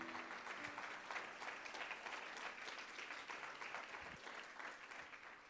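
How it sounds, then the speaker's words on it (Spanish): A church congregation applauds together, a continuous, even roar of many hands clapping that stays dense and steady, heard at a modest distance with no talk over it. "den un aplauso fuerte al Señor"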